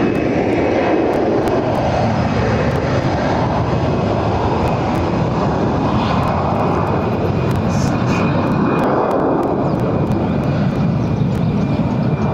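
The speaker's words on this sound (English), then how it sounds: "8 Dreamliner arriving from Chicago on final approach to runway 24 right" A Boeing 787 Dreamliner on final approach to runway 24 right, arriving from Chicago, heard as a loud, continuous jet engine roar that holds steady throughout, with brief clicks and a voice speaking over it.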